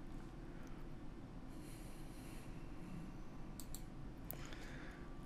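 A computer mouse clicks a few times near the end, as faint, brief, sharp ticks over a quiet low background hum, with no talking.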